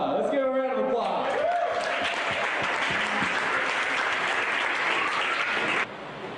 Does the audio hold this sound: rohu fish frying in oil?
no